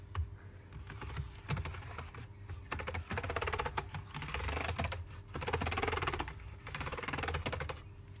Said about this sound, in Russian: Так, проверяем клавиатуру.